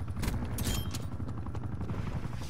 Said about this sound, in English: Chopper's getting fucking taken out, probably though.